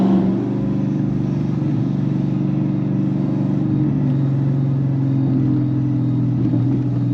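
A turbocharged SRT8 Dodge Challenger cruises along with a steady, loud, low engine rumble and drone that holds constant from the cabin, with no talking.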